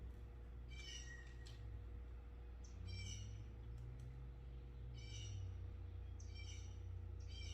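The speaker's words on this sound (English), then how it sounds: "You all can hear the birds chirping." Faint bird chirps repeat in short bursts outdoors on a calm Sunday, sounding distant over a low, steady background hum, with no talking.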